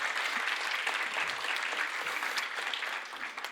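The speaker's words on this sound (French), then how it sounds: "On peut vous applaudir parce que chapeau." Audience at a talk on wild edible plants applauds contest participants, a short burst of dense, even clapping from a roomful of people, moderately loud and without voices.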